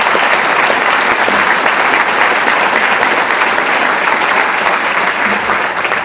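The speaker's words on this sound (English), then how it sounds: "Let's give them a round of applause." A large audience at a city State of the City address applauds school principals, a loud, dense, unbroken roar of clapping that holds steady from start to finish.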